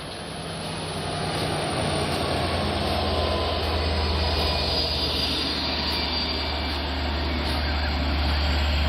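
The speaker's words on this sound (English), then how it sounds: "now the train is pulling forward" A Long Island Rail Road train with a DM30AC locomotive at Westhampton pulls forward, producing a loud, steady diesel engine drone and rumble with a high whine on top, heard from close by.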